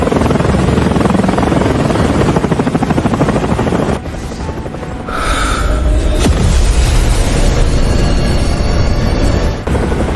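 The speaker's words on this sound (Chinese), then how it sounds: "重装直升机编队换装穿甲爆破弹" Heavy helicopter formation in an animated battle, firing armor-piercing explosive shells: a loud, dense rotor-like drone with rhythmic chopping, briefly dipping before deep booms and blasts rise again, no speech.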